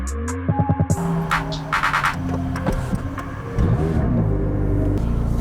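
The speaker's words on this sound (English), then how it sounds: "One thing that I'm paying close attention to is the firing up of the engine. It's firing up real nice." A rebuilt 2020 McLaren 570S starts up, with a few short electronic beeps followed by a low rumble; partway through, the engine catches and settles into a steady, throbbing idle.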